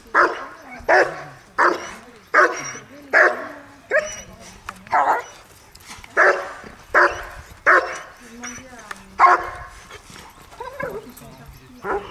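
A dog barks in a steady series of loud, evenly spaced bursts during a protection training exercise at a training course in Enchenberg. A trainer's voice is heard between and over the barks.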